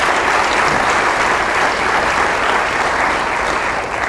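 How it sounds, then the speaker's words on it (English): Steady, sustained audience applause fills the room at a county budget address, a dense wash of clapping that holds at an even level from start to finish with no voices rising above it. "Let's give them a round of applause, please."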